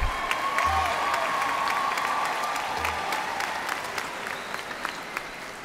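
Applause fills the hall at the 2018 ECPI University Virginia Beach commencement ceremony. Many hands clap steadily at moderate volume, with a few scattered cheers, and the clapping gradually thins toward the end.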